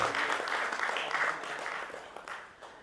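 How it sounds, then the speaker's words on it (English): A round of applause at a procurement leaders summit panel, the clapping crowd starting full and gradually thinning and fading toward the end. "Let's give him a huge round of applause."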